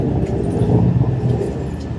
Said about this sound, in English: On the local bus in Eilat, on the way to the beach.